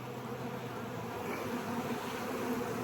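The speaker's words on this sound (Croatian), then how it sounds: "Ima puno pčela." A dense, steady drone of many honeybees buzzing inside an opened beehive, continuous and close throughout with no voices.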